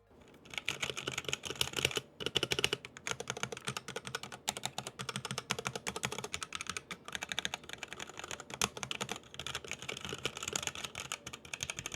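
A stock Mucai MKA610 budget mechanical keyboard typed on continuously, a dense, rapid, close-up clatter of keystrokes with brief pauses, loud and alone with no talking.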